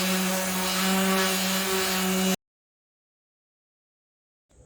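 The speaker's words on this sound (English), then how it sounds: "I'm gonna go ahead and sand on top a little bit." An electric sander works across the top of a wooden guitar pedal board, giving a harsh, steady buzzing rasp for about two seconds before cutting off abruptly into silence, with a faint knock at the very end.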